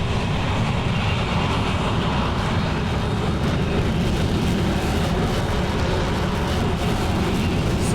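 Jet engine afterburner spooling up in a flight simulator game, a loud, steady broadband roar holding constant throughout, with no talk.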